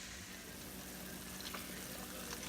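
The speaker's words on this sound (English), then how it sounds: "I already got the onion and the bell pepper simmering also" Onion and bell pepper sizzling in a pan for keto chili, a steady soft hiss of frying that holds evenly throughout with no talk.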